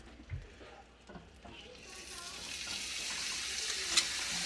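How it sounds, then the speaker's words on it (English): Steak dropped into melted butter in a pan starts a soft sizzle after a few light clatters, swelling into a steady hissing sear that grows louder and closer, with no talk. "I'm gonna put my steak right in there."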